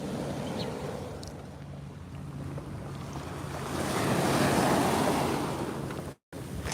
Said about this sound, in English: And a beautiful rocky beach.